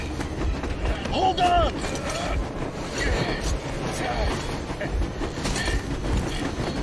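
Moving train in the Metro Exodus video game, a steady rumbling rail roar with clattering under excited shouting and talk throughout.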